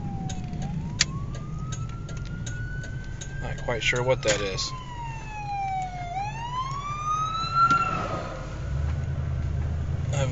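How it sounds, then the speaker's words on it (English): A police car or ambulance siren wails past in the dark woods during a deer hunt, its rising and falling tone sweeping across the whole clip at moderate distance while someone speaks over it. "I think it's a cop, or an ambulance or something like that."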